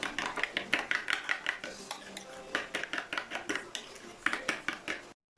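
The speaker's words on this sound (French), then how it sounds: "Et je fais revenir comme ça. Je mélange bien." A utensil stirs black pepper in a pan for Antillean-style chicken with crème fraîche, making a quick, rhythmic run of metallic scrapes and clinks close by that stops abruptly at the end.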